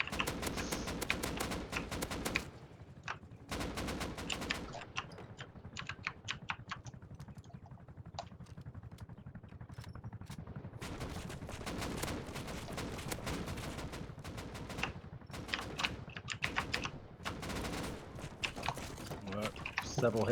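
Rapid bursts of video game gunfire hitting a helicopter, dense clattering volleys broken by short pauses, loud and close, with a voice talking over parts of it.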